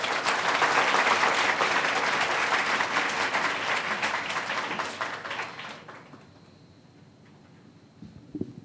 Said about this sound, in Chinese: 都再一次用热烈嘅掌声